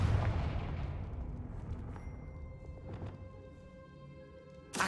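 Confringo blasting spell exploding in the Hogwarts Legacy video game, a loud booming burst at the start that decays into a rumbling tail, with a second sharp blast right at the end.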